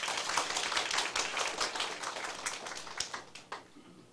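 An audience at a closing ceremony of an advanced administrative training class in Taiwan claps together, a dense burst of applause that thins out toward the end into a few scattered last claps.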